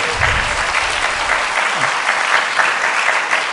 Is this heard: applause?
yes